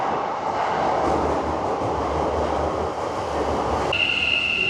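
A train pulls into a station in Japan with a loud, steady roar of wheels and carriages close by, and a high metallic squeal of brakes near the end.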